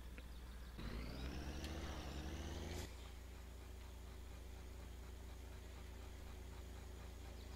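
A video-game car engine droning steadily, rising in pitch as it revs up over a couple of seconds, then settling into a constant low hum with a faint whine, fairly quiet and with no talking.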